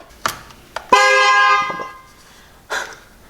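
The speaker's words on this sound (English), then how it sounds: "The horn honked." The horn of a BMW X6 35i (F16) sounds one sustained honk of about a second, with a few sharp clicks and knocks before and after it.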